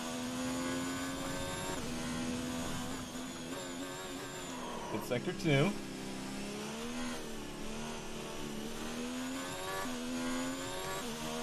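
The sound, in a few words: F1 car engine revving hard, F1 2019 video game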